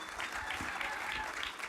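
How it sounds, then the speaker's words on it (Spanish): Church congregation applauding a preacher as he is welcomed, a steady wash of clapping from many hands filling the brief moment. "Recibámoslo con un fuerte aplauso."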